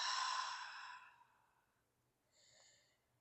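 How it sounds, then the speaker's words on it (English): During a yoga session, a slow, soft exhale of breath, breathy and close, fading out, followed after a pause by a brief faint sniff of air in through the nostrils. "Let's take a deep, deep breath in through your nostrils and exhale the breath out."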